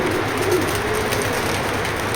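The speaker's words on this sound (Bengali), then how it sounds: "অনেক কবুতর আমি আপনাদেরকে খাবার দেওয়ার মাধ্যমে দেখাচ্ছি" Racing pigeons give soft, low coos while being fed in a loft, against a busy, noisy background in a brief moment.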